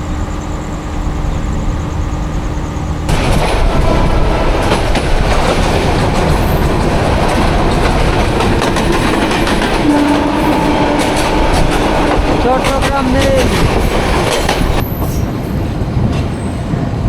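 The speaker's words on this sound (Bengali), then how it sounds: "খুব সুন্দর একটা লাস্ট কার্ভ নিয়ে অগ্নিবীণা এক্সপ্রেস কমলাপুর রেলওয়ে স্টেশনে প্রবেশ করছে" The Agnibina Express rolls into Kamalapur railway station at night, a loud continuous rumble with clattering wheels and squealing on a curve, plus a brief voice over a speaker at the start.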